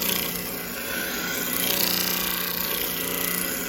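Electric disc sander grinding a wood corner, a steady broadband abrasive hiss and whir held at an even level throughout with slight surges as the piece is rounded over.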